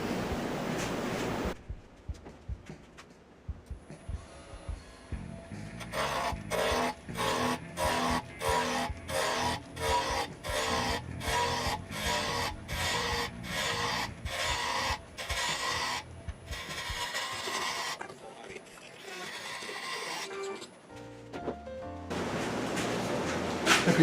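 A cherry blank being roughed down to a bottle-stopper tenon on a wood lathe gives a scraping, rasping cut that pulses in a steady rhythm of tool passes over the spinning wood, fairly quiet and with no speech.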